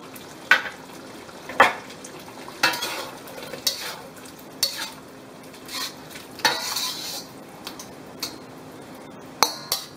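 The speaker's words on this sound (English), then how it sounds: "Then we're going to toss in our scallions." Scallions are stirred into braised pork with black beans in a pan, with a soft sizzle underneath. A utensil scrapes and clinks against the pan at irregular intervals, in close, fairly quiet bursts.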